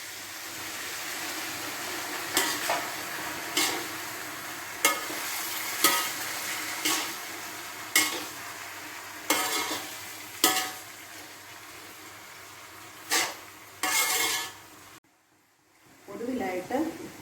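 Ginger-mango pickle in a pan being stirred after vinegar is poured in, with a steady sizzle beneath repeated scraping strokes of a spoon at a roughly even rhythm, up close.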